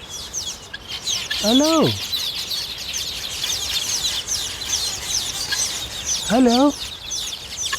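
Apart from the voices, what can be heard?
guinea fowl calling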